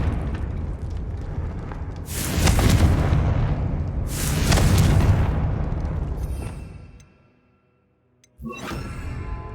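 Confringo blasting spell in Hogwarts Legacy: two loud, close fiery explosions a couple of seconds apart, each a roaring burst that swells and slowly fades, followed by a brief silence and a softer crackling blast.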